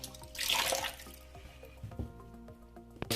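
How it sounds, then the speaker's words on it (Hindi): Boiled chhena being rinsed under cold running tap water, a close gush of flowing water that eases into scattered drips and light handling sounds. "अब हम इसको करते हैं ठंडे पानी से वॉश"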